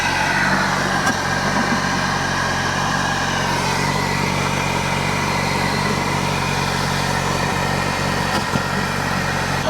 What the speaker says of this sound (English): Cold start on this is brutal.